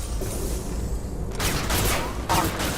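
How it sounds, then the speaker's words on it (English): Concussive shot ability fired during Mass Effect 2 combat, two sharp broadband blasts a second apart that stand out over a steady rumbling battle backdrop. "Firing concussive shot!"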